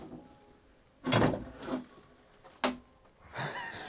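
Drawers being pulled open in an abandoned house, a couple of short sliding scrapes and knocks separated by quiet, close and moderately loud with no talking.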